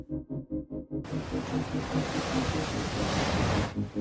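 Tidal bore waves on the Fu River in Jiangxi, a broad surging roar of water and wind noise that swells in after a pulsing rumble, steady and close, with no voices.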